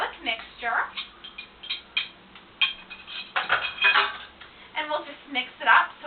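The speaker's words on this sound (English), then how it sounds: "And we'll just mix it up so it's all incorporated." Artichokes being stirred into a spinach and garlic mixture in a pan, with scattered clinks and scrapes of a utensil against the pan, close by and moderately loud, under intermittent talking.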